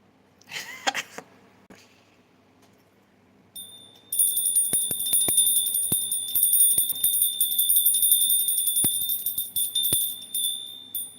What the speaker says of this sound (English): The bell of happiness.